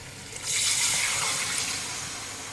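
Tamarind juice made from old black tamarind pours into a pot of fish curry, a steady splashing stream starting after a brief quiet moment and running on, close and fairly loud, with no talking.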